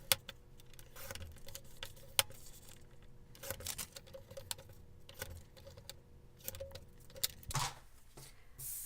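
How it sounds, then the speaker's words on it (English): A craft cutting blade slices out a printed recipe picture for a mini recipe planner: a quiet series of short scratchy strokes and clicks, spaced irregularly, with no talking. "now what I want to do is cut out the picture, and I'll need to use my cutting blade for this"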